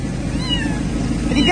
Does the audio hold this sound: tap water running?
no